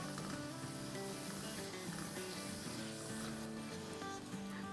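Masala spices frying in a pan for a chicken-free sabzi, giving a steady, dense sizzle that runs unbroken and fairly loud alongside a continuous musical background, with no talk.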